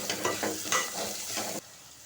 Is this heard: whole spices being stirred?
yes